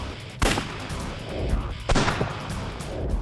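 A .44 caliber gunshot striking a SAFE Core armor panel: two sharp, loud reports about a second and a half apart, each followed by a brief rumbling decay over a steady background.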